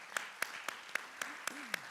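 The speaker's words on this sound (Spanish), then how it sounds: "por el cual también pido un aplauso" Audience at a human rights forum panel clapping in a slow, even rhythm, about seven distinct claps spaced roughly a quarter second apart, fairly soft with a faint voice underneath.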